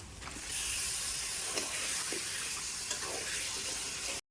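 Chicken going into a hot pan for chicken dak bungalow, seasoned with red chilli powder and a little sugar: a steady, soft sizzling hiss that holds for several seconds with faint crackles, then cuts off abruptly.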